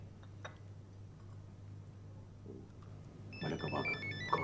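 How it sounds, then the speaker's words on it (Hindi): A telephone rings in a quiet room, its repeated warbling electronic ring tone breaking in loudly near the end after a stretch of low hum and near silence. "ये किसका फोन आ गया बेवक्त बेवक्त?"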